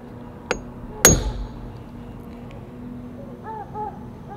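A hammer strikes a metal punch to mark drill spots for a roof rack ditch mount: a light tap, then one sharp ringing blow that decays slowly, followed by faint clinks and a brief murmur of a voice.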